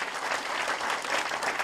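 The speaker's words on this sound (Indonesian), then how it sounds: "Beri tepuk tangan dulu yang meriah bagi Tuhan." Loud, lively clapping from a church congregation during a sermon, offered in praise to God; dense, steady applause fills the whole moment with no voices over it.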